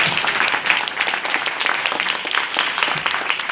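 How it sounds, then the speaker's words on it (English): An audience at a blockchain summit in Taiwan claps for a speaker, a sustained round of fairly close applause with individual hand claps popping out of the dense patter. "Let's give him a big round of applause"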